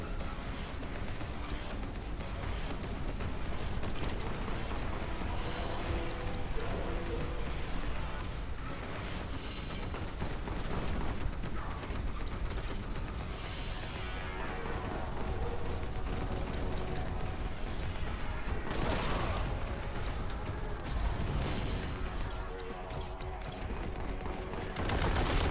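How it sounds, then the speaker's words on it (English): Continuous loud weapon fire and explosive, mechanical game noise from the melter rifle in the retro shooter Boltgun, dense and unbroken throughout with a sharp burst near the end. "Oh yes, melter rifle."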